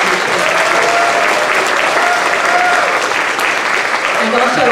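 An audience at a Christmas concert gives sustained, dense applause at a steady loud level throughout, with no break.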